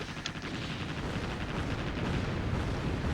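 In the naval game World of Warships, the ammo depot aboard the cruiser Atlanta detonates with a dense, continuous roar of rumbling blasts and crackling gunfire, loud and sustained throughout.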